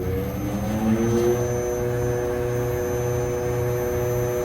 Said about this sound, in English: Compressor 1 is starting up.